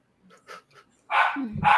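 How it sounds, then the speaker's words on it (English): Indoor pet dog barking: a few faint yips, then two loud, close barks in quick succession. "She's barking at the other toilet because she couldn't get in my room."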